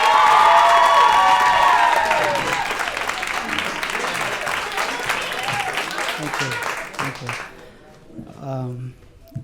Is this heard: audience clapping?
yes